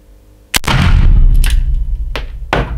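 A Gomm Cogne GC 54 defense gun fires a light rubber mini ball: one sharp, loud close report, followed a second and two seconds later by further quick bangs or clacks over a rumbling ring-out.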